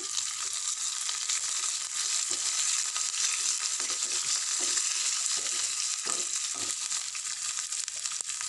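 Three small chopped green chillies fry in hot oil, giving a steady close sizzle and crackle with faint stirring taps, with no talking.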